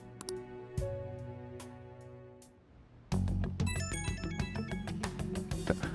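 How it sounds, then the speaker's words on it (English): Phone ringing in Persona 5 Royal, a bright electronic ringtone melody that starts midway after a quieter stretch of soft tones, moderately loud and up front. "people keep ringing up my phone at night"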